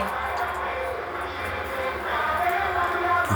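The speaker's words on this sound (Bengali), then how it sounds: "ভোটের প্রচার চলছে," Election campaign loudspeaker blaring from a road beside a house, a steady, muffled amplified voice and music droning continuously in the background at moderate loudness, with no clear talk nearby.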